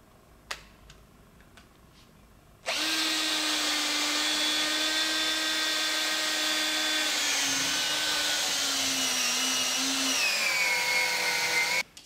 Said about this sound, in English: Just take a cordless driller, clamp in the drill, and you're good.